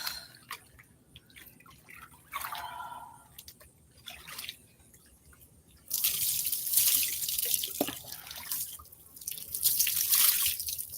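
Tap water runs and splashes while red hair dye is rinsed off, starting as scattered drips and trickles, then turning into a steady, louder gush of spray for the second half.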